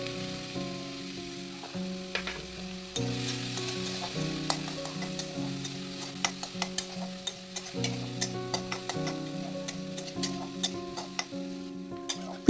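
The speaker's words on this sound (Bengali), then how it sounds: "আমি আরেকটু করে অল্প তেল দিয়ে মরিচ আর পেঁয়াজ ভালো করে ভেজে নিচ্ছি।" Chilli and onion frying in a little oil for a fish and potato curry, a steady close sizzle broken by repeated scraping stirs and light clicks of the spatula against the pan, with no talking.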